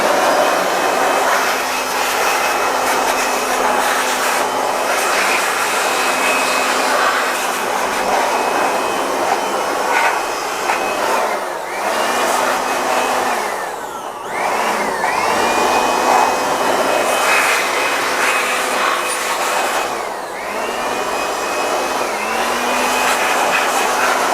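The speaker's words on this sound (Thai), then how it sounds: "ใครมีปืนเป่าลมตัวนี้นะครับ ก็สามารถนำมาใช้ได้นะครับผมโดยการเป่าแห้งเองก็จะเป่าประมาณนี้นะครับ" Air blower gun drying a freshly washed home air conditioner: a loud, steady high-pitched rushing whine held close for the whole stretch, with brief dips and pitch sweeps as the nozzle moves.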